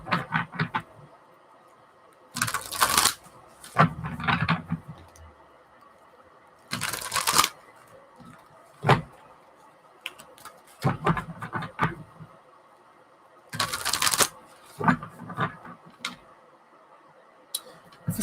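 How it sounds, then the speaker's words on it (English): Tarot cards being shuffled: bursts of papery riffling and crisp card snaps come in short clusters with quiet gaps between them, close up and with no talking. "Let's start shuffling these cards."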